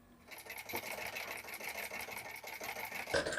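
A sewing machine runs continuously while stitching blouse fabric, a fast, even mechanical whirring with a rhythmic needle clatter, fairly close and quiet, with a brief clunk near the end.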